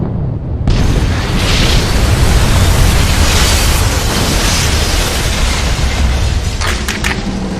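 A sea mine detonates against the hull of the hospital ship HMHS Britannic, a sudden, massive, sustained roaring boom filling the whole spectrum and rumbling on without letup.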